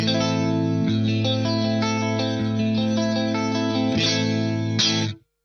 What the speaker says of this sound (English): I've kicked in this like digital dimension style thing on the M7.